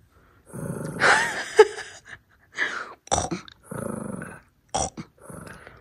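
A dog growls and snorts in short bursts with pauses between, close and fairly quiet, with gasping whimpers mixed in.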